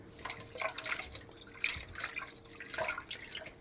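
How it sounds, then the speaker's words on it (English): Deveined shrimp being washed in lime juice for Jamaican curry shrimp, with soft intermittent drips and wet splashes in small bursts, close and fairly quiet, no talking. "now I'm going to wash the shrimp with the lime juice."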